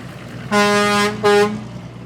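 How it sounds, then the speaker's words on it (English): Two loud blasts of a truck air horn on a 4x4 truck, with the compressor or tank in a toolbox in the truck bed, a long one followed by a shorter one, close and clear over a low background hum. "you can still hear it pretty loud"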